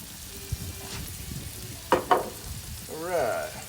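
Stuffed catfish with crawfish frying in butter on a 22-inch Blackstone griddle, a close, low sizzle with a few sharp spatula scrapes and a louder burst of hissing near the end.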